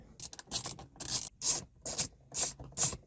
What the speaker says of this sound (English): we need to remove this trim here. You just pull up like that